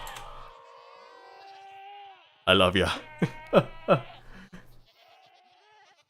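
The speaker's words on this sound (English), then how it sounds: "I love you goats." Goats in the Minecraft video game bleat in a quick run of wavering, nasal cries near the middle, close and fairly loud, with a person talking softly before and after.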